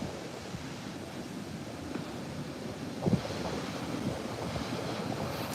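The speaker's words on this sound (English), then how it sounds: "This is Great Falls. This is the Potomac River." Rushing water of Great Falls on the Potomac River, heard from a boardwalk on a winter day: a constant broad roar with wind buffeting the microphone and a brief handling bump, no talking.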